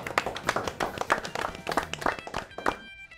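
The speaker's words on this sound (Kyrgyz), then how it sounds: "Бир кол чаап коелу оюн үчүн." Applause from a studio audience at the close of a televised quiz game, a dense run of overlapping hand claps that stays loud for about three seconds before cutting off abruptly.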